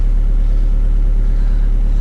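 A pickup truck engine idles, a steady low rumble heard close and loud from inside the cab, with no talk.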